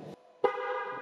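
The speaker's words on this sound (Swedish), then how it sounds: "Tutan funkar det." A Mazda car horn gives a short blast, then after a brief pause a loud, steady honk that holds to the end, close by.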